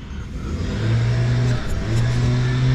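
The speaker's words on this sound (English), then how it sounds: "Sorry about the noise, but the neighbour's getting their lawn mowed." A neighbour's lawn mower runs next door with a steady engine drone that swells in strength just under a second in and then holds loud and continuous, with no talking.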